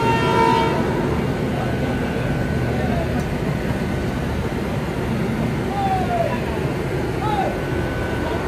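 Passenger train running on the Kolkata to Rishikesh route, heard as a continuous loud rumble of wheels and carriages with a faint distant horn early on, steady throughout.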